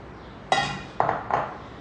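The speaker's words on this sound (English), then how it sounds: "I'm just going to keep this pan aside" A metal pan that held chocolate melted in a double boiler is set down on a hard surface, giving three bright clinks in quick succession, close and clear with no talking over them.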